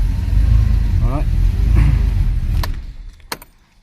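A car key slides and clicks into the ignition lock of a Porsche 911SC, a few sharp metallic clicks near the end after a stretch of engine rumble and someone talking.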